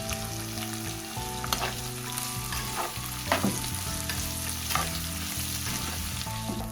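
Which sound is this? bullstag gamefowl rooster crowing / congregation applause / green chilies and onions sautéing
green chilies and onions sautéing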